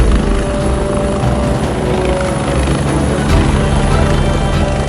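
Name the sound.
helicopter flying at high altitude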